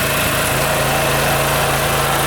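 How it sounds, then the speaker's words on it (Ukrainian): OKAY 2.5 kW inverter generator running steadily under a roughly 1000 W heater load, a loud continuous engine drone with a constant hum and a slight shift in tone early on. "Нормально сприймав нагрузку генератор, трошки змінилась робота."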